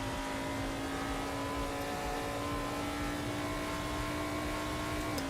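In a racing sim, a URD LMP2 race car engine drones steadily at high revs, a loud continuous tone with no speech.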